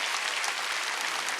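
Steady applause from a church congregation during a Sunday worship service fills the whole moment, a dense even clatter of many hands clapping together.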